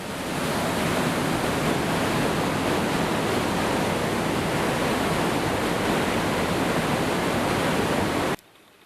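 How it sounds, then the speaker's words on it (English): The Caribou River falls roar as a loud, steady wash of rushing water close by, unbroken for about eight seconds before it cuts off abruptly. "I don't know if you can hear me, but here's Caribou River."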